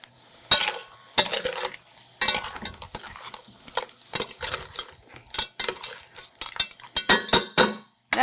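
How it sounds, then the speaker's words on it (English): Roasted corn kernels tumble and scrape into a bowl in a kitchen where clams and aromatics are cooking, a series of close, uneven clattering bursts with clinks of utensils and dishes and no talking. "All my roast corn into the bowl."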